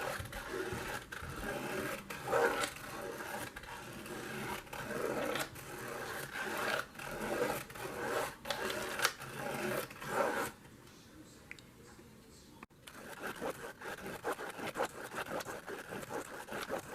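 A Pilot G2 gel pen spun in the hole of a plastic spiral art gear from a dollar-store kit gives a steady, rhythmic scratchy rubbing that carries on for a long stretch, stops briefly, then resumes close up.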